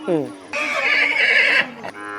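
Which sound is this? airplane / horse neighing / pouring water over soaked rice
horse neighing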